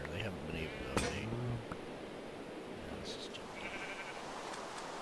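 Sheep bleat in a video game biome: a few short, faint bleats sit low in a noisy ambient background, with a louder burst near the start and another partway through.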